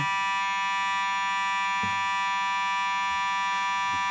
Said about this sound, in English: we're experiencing an alarm here, and a fire alarm here at our GPP studios, to be exact